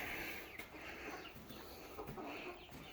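Young backyard chickens cluck and chirp faintly in an old garage, a soft continuous murmur of fowl calls with no talking.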